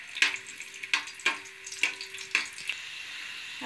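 Crushed garlic cloves with their skins on sauté in hot oil in a pan for a Maharashtrian raw jackfruit vegetable, giving a soft sizzle broken by several sharp stirring scrapes at an uneven rhythm, close by and with no talking.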